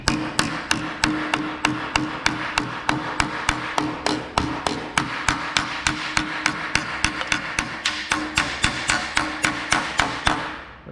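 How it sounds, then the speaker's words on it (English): A small body hammer taps rear sheet metal on a 1967 Chevelle in a steady, even rhythm, about three sharp metallic strikes per second, close and clear, no voices. "I'll come back with my little body hammer and to finish things up"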